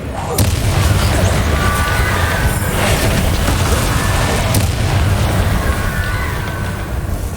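Bombarda spell explosions boom in the video game Hogwarts Legacy, loud continuous rumbling blasts with sharp cracks and crackling debris over a heavy low roar.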